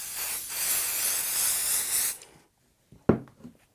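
Spray adhesive hisses from an aerosol can onto folded-back quilt wadding in one steady burst of about two seconds, close and fairly loud, followed by a short soft rustle and tap.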